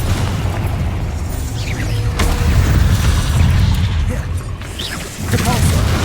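Booming blasts from Bombarda and Confringo spells in the video game Hogwarts Legacy, loud repeated impacts and bursts over dense battle noise.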